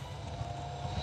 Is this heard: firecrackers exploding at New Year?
no